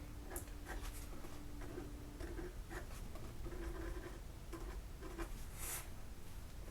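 A pen scratches across paper, writing a date onto a mixed-media sketch in short, quiet strokes with brief pauses, over a steady low background hiss.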